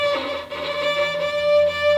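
A violin played in a beginner's attempt at a finger-bowing exercise, bowing mid-string with only wrist and fingers, holds a thin, steady sustained note with a slightly scratchy, wavering texture.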